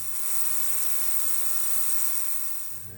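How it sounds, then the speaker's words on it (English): A sonic cleaner runs with the internals of a Jeep Rubicon electronic swaybar disconnect soaking inside. It gives a steady, high-pitched electric hum that starts and stops cleanly within a few seconds, close and alone. "I put all the internals into a sonic cleaner where they would soak for the next half hour."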